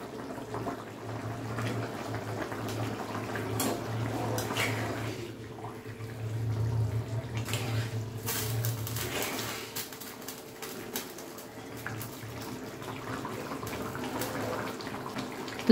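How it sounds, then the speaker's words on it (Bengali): Curry broth bubbling in a small pan on a gas stove, a steady close simmering hiss with a low continuous hum running throughout. "তো এখানে ঝোলটা তো ফুটে গেছে"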